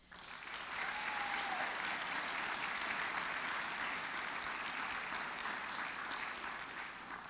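Warm, continuous applause from an audience at a college student achievement celebration greeting a secondary education award, a soft, even patter of many hands that starts quickly and holds steady at moderate distance.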